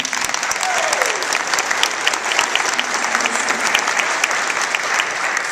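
Audience at a childcare conference keynote claps steadily and densely, a continuous wash of many hands filling the space, with faint murmurs mixed in.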